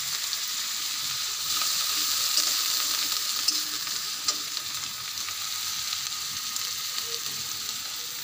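Onion, ginger, cumin and mustard pastes frying in oil, a continuous bright hissing sizzle with small pops and crackles, close by and steady for the whole stretch, no talking.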